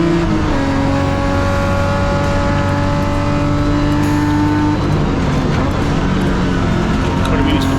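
BMW M Performance Parts series race cars pass on the Zwartkops circuit, a loud, steady engine roar with droning tones that shift as the field goes by, under continuous commentary.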